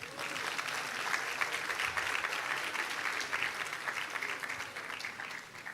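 Conference audience applauding steadily at a money matters session, a dense wash of many hands clapping throughout at moderate loudness, without pause.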